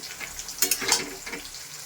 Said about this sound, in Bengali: মাছের মাথাগুলো দিয়ে নেড়েতে ঢেকে দিব ভাজা ভাজা হবে